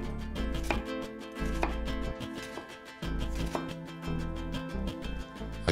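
A knife slices a half onion into strips on a cutting board, producing a quick, steady series of close, crisp chopping taps with brief pauses between runs.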